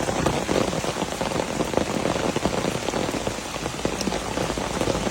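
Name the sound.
heavy rain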